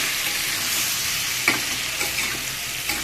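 Taro and papaya sauté in a pan with a loud, steady sizzle and a few light clinks as the food is stirred.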